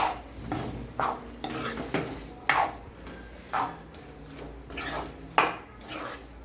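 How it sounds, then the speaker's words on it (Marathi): A spoon stirs fried paneer into cashew curry gravy in a pan, making repeated rhythmic scrapes and clinks against the metal, close and clear with no voices. "हे जे फ्राय केलेला पनीर आहे हे टाकणार आहे हे बघा हे मिक्स करून घ्यायचं आहे आपल्याला असं छान"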